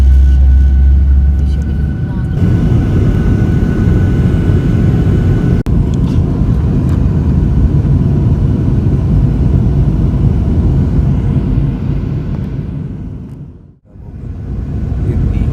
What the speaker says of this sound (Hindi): जो हमारा प्लेन है वो रनवे की तरफ जाना शुरू हो गया जी